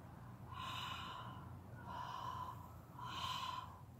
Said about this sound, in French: Une troisième possibilité, vous imaginez un miroir et vous soufflez dessus.